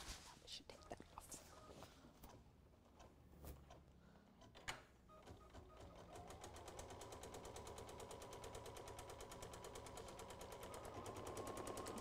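An embroidery machine runs a stitch, first with a few scattered clicks and knocks, then settling into a fast, even mechanical patter that grows slightly louder toward the end.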